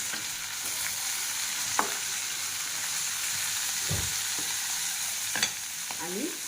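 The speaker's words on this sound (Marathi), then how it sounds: "कांदा पण आपला आता ब्राऊन होत आहे याच्यामध्ये मी टोमॅटो टाकते आणि मेथी पण टाकते" Onion, tomato and fenugreek fry in a pan with a steady close sizzle, while a spoon scrapes and stirs in a few scattered strokes.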